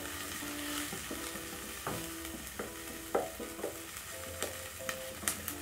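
Onions frying in a pan, a steady soft sizzle running throughout with occasional knocks and scrapes of stirring.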